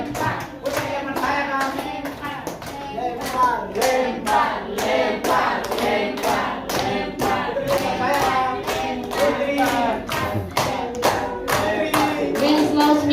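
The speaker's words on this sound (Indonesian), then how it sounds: "tepuk tangan untuk Ayang" A classroom group of students clapping for a classmate, a dense run of sharp hand claps that goes on steadily without stopping, with a few children's voices mixed in.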